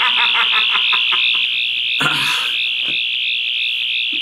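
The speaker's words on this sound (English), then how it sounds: "That sound is coming from the Lego TARDIS." A Lego TARDIS gives off a steady, shrill electronic alarm tone that drones on continuously, with a brief burst of noisy clatter partway through.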